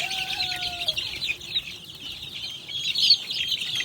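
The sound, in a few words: chicks and chickens clucking in garden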